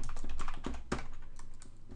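A computer keyboard clatters with rapid, closely spaced keystrokes as a row of labels is typed. The typing is near, steady and busy with no voices.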